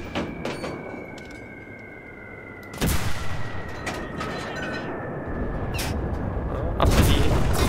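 Gunfire and heavy booms in the video game Enlisted during the Stalingrad battle at the tractor factory, with sharp bursts and blasts over a constant dense battle din, growing louder toward the end.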